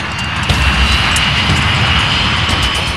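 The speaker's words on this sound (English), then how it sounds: "The 737 finally begins to roll down the runway." Loud, steady roar of Boeing 737 jet engines as the airliner begins its takeoff roll down the runway, a dense continuous rumble with a high whine, no voices.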